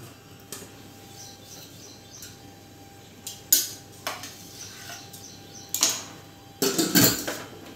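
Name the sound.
pots clattering while setting up pressure cooker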